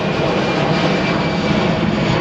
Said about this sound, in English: There is a plane right there, and over there are the 2 runways.